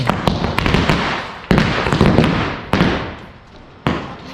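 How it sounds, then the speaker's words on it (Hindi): Diwali firecracker bombs burst loudly and close by, four sharp cracks, each trailing into crackling debris and rumble, with no talk over them. "ये चक्री थी जो सडनली फूट चुकी है। ये तो बम हो गया"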